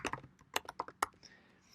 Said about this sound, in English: I can type in Intro to Programming Concepts